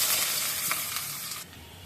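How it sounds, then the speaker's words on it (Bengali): Onions frying in oil in a home kitchen pan, a steady close sizzle with bright crackle that thins out near the end, no voices. "পেঁয়াজটা ভালো করে ভাজা হয়ে গেছে।"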